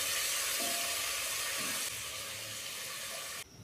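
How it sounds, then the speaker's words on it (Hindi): Steady broadband hiss of ginger garlic paste sautéing in hot oil for a mutton white karahi, loud and close throughout, easing slightly halfway before a sudden shift at the end, with no talking. "और अदरक लहसुन को सोते कर लेंगे।"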